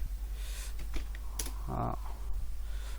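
Quick bursts of keystrokes on a computer keyboard, a few close, crisp taps and clicks spread over a few seconds in a quiet room.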